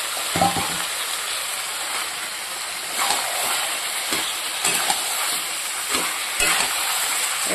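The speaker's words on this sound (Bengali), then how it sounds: "এর মধ্যে এবার ভেজে রাখা মাংসগুলো দিয়ে দেবো।" Fried mutton pieces tipped into cooked spice masala in a pan, giving a loud continuous sizzle and hiss with a few sharper stirring scrapes and bursts, no talking.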